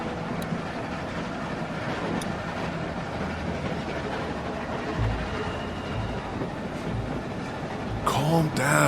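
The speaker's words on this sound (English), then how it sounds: "Stop the train." A train rumbles steadily along in The Walking Dead video game, a continuous low clatter and roar that carries the whole stretch, with a brief sharper burst of noise near the end.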